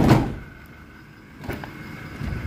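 The front passenger door of a 2015 Toyota Hiace Commuter van is opened, with a thump at the start, a quiet pause, then a latch click and a short rattling slide nearby.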